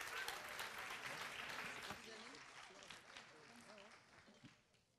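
Applause from an audience at a Pineau des Charentes mixology event during a prize draw, a dense wash of clapping that gradually fades out over several seconds, with faint voices underneath.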